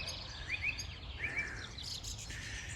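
Pheasants call from a garden in a few short, sharp chirping bursts, moderately near, over a steady outdoor background hum.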